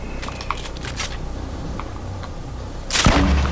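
Grenade launcher blasts in the Fortnite video game: scattered faint pops and clicks, then a loud, sustained burst of explosive rumble near the end.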